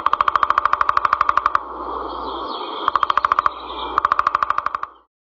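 Woodpecker drumming: rapid, evenly spaced bursts of knocks in three runs, with a noisy, airy forest background filling the gaps between them.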